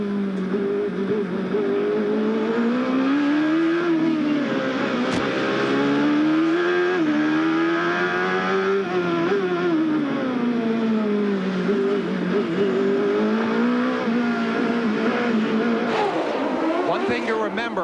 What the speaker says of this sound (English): We listen to Bobby Rahal as he works his way through the gears on this circuit.